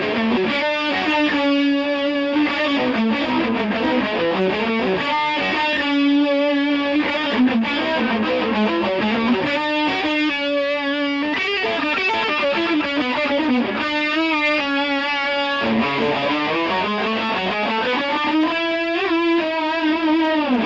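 Slow electric guitar lick, distorted with effects, single-note phrases bending and sliding through a steady run of notes, loud and close with no talking.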